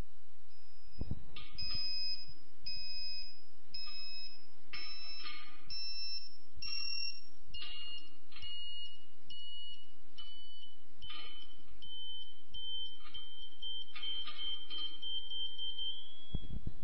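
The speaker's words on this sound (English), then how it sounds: "The beeper tone will now get higher and reach finally a continuous high tone." Electronic beeper tones from a KA-Sat satellite terminal during dish alignment, with repeated short high beeps whose pitch shifts over a steady hum and settles into a longer sustained tone near the end. No speech is heard.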